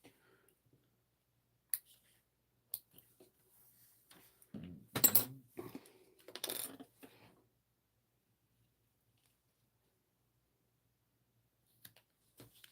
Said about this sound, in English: I'm just snipping the corners so that way when I stitch all the way around, it's not bulky.